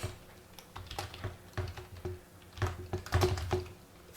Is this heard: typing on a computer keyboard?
yes